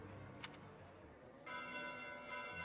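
Bells ring out at night in the Fire Emblem Three Houses video game, a faint chime standing out briefly over a low hum before a brighter, sustained ringing tone swells in and holds.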